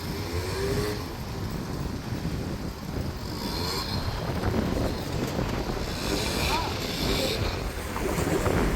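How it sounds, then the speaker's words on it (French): Strong afternoon wind sweeps across Dubrovnik harbour, a constant, heavy rumbling rush with gusts buffeting close by. "Là, après-midi, on a beaucoup de vent."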